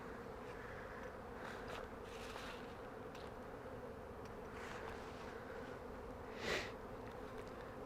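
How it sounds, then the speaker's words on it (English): Honey bees buzzing around the entrance of a ten-frame deep hive, a faint, continuous hum with individual bees swelling louder as they fly past close by, one passing very near the microphone. "Got some bees coming and going."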